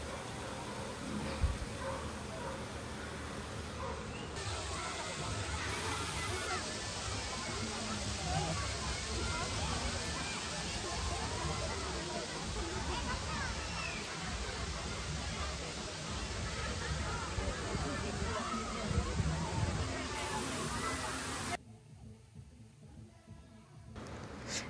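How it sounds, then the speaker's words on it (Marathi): Water cascading down a set of steps into a swimming pool, a steady broad rushing wash that holds for about twenty seconds before suddenly dropping away, with faint voices mixed in. "आणि तेच पाणी खाली स्विमिंग पूलला जाते"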